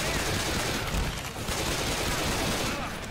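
Dense, continuous gunfire during a Left 4 Dead 2 zombie fight, a steady barrage of rapid shots that fills the whole stretch, with voices talking faintly underneath.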